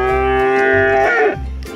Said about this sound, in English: Today Luby is relaxing in the garden watching the cows.